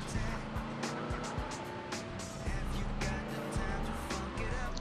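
Leone Sentinel car driving in GTA Liberty City Stories on PS2, a steady engine drone with shifting revs and brief tire noise, fairly quiet and even.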